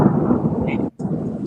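A thunderstorm rumbles with a low, continuous roll of thunder and a wash of rain. The sound cuts off briefly for a moment and then resumes.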